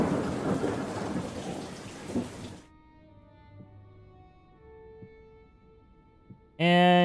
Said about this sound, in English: That's the magpie thunder right there. You hear magpies in it.